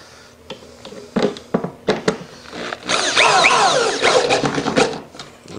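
Screws are driven at a slight angle through two plywood subfloor sheets into a 2x6, heard as several short, loud power-driver bursts that settle into a longer, sustained whirring run and then a few more brief bursts, close by and with no talking.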